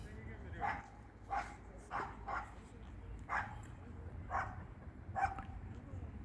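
A tired dog that has stopped walking gives a series of short, moderate barks or yips at irregular intervals against a low rumbling background.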